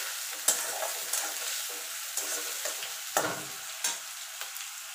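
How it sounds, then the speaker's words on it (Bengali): Sliced onion frying in oil in a pan, a steady sizzle broken by repeated sharp scrapes of a spatula stirring it, close and alone without talk. "দেখুন বন্ধুরা, পেঁয়াজটা ভাজা হয়ে গেছে"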